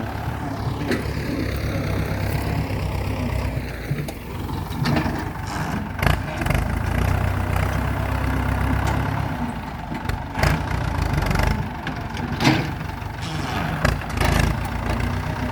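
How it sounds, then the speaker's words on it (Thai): A modified farm tractor idles with a racing exhaust, its steady, loud engine rumble running throughout with occasional bursts and knocks on top. "รถไถซิ่งรถไถซิ่ง ท่อซิ่ง"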